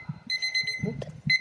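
A kitchen timer rings in repeated short electronic beeping bursts, bright and close, with a pause in the middle before the alarm resumes, alongside faint handling noise.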